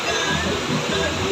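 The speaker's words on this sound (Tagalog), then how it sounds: "Grabing buhos." Heavy rain pouring down in Baclaran, a dense loud rushing wash of water with a person talking over it.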